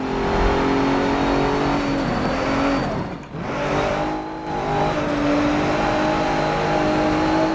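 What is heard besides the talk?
race car engine revving in Forza Motorsport 7 video game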